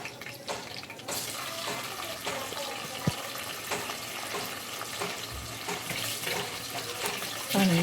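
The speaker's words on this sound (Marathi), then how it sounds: "जिरं छान कडकडायला सुरुवात झालेली आहे" Cumin seeds and curry leaves crackle and spit in hot oil in a pan for an okra stir-fry, a close, steady, busy sizzle with scattered sharp pops and no talking.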